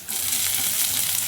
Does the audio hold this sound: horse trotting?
no